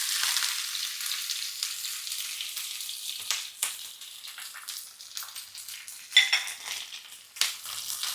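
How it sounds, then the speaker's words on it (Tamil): Onions and curry leaves fry in hot oil for a potato and chickpea kuzhambu, giving a steady close sizzle with occasional sharp clinks and stirring scrapes. "அடுத்து வெங்காயம் போட்டுக்கலாம், கருவேப்பிலை சேர்த்துக்கலாம்"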